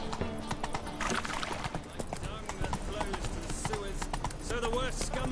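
In The Witcher 3 video game, the horse Roach gallops with rapid, rhythmic hoofbeats and an occasional snort or whinny. Game music and a voice sound over the hooves throughout.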